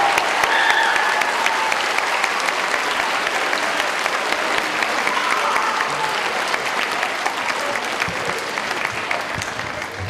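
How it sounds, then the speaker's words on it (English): Sustained audience applause fills a school promotion ceremony, dense steady clapping from a crowd lasting the whole stretch, loud and close with no break. "Let's give Mrs. Whitelock a nice round of applause for all of her years of service"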